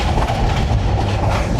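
A passenger train on the Dhaka to Chattogram line rolls steadily with a loud, continuous low rumble and faint rhythmic wheel clatter, heard from on board with no talking.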